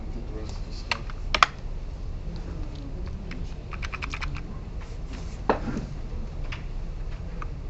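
Several people typing on computer keyboards in a lecture classroom, scattered clicks and short bursts of keystrokes under a steady room hum, fairly faint and mid-distance.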